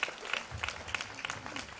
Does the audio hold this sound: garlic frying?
no